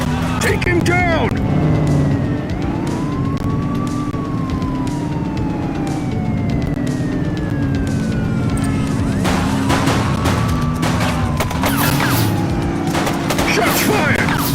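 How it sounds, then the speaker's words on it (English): Gunfire crackles in the police video game The Precinct as brief bursts amid wailing sirens and car noise, with voices talking over the action. "Shots fired!"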